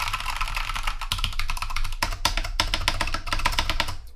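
Rapid typing on an inexpensive Ajazz K620T mechanical keyboard, dense clacky keystrokes close up and continuous, with solid stabilized keys and no rattle.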